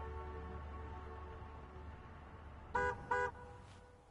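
A car in the Madden 18 video game idles with a low engine hum, then sounds two short, clear horn honks in quick succession near the end.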